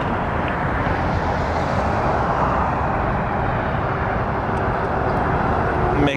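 Air Canada flight 858 to Heathrow departing Toronto Pearson, a steady broadband jet roar that holds loud and even for the whole stretch, with no talk over it.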